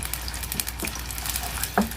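Chopped small onion frying in hot oil for an onion masala, a soft, steady sizzle with faint crackles and one brief clink near the end, quiet and close with no talk.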